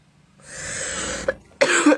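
A person with a lingering cough from stomach acid trouble coughs twice in quick succession, close and loud, each a harsh breathy burst separated by a brief pause.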